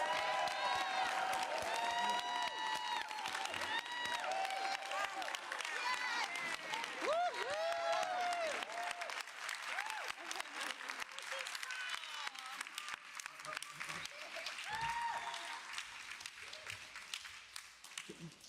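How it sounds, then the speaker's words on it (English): Sustained applause from an audience at a New York City mayoral announcement on gender equity, steady clapping mixed with cheers and whoops, loud and continuous before gradually thinning out toward the end. "I would like you to join me in giving her a round of applause"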